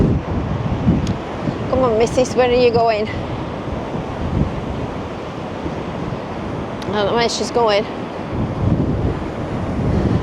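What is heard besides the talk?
big sea waves and wind at Blackpool beach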